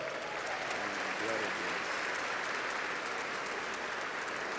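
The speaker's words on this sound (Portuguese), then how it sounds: "você quer aplaudir mais uma vez?" A church audience applauds Pastor Coty with dense, steady clapping that fills the whole stretch at an even level, and a voice briefly rises above it near the start.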